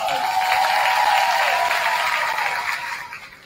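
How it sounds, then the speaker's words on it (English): A burst of loud audience applause and cheering that swells briefly, then gradually fades out. "give yourself a round of applause."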